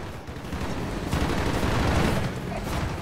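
Dense, continuous gunfire in a Call of Duty Black Ops battle, a loud, steady barrage of overlapping shots and booms with no pauses.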